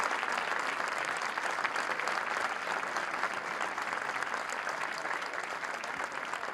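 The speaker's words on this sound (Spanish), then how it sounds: "Repetimos el aplauso a Agustín Laje." Sustained audience applause for Agustín Laje at an evening event in Catedral de la Alabanza, a dense steady clapping from a large crowd filling the whole stretch without letup, with no voices rising above it.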